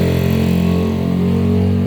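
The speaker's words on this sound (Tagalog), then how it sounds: "Yan, ingay ng motor." A motorcycle engine runs steadily near the microphone at a house construction site, giving a loud, constant low drone with a strong harmonic hum and no clear revving over the two seconds.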